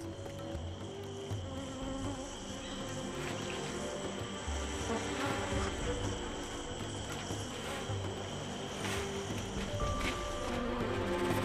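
Insects buzz steadily near a nest in the Amazon rainforest, presumably bees or wasps, a continuous droning hum that holds fairly even and moderately loud throughout with no voices.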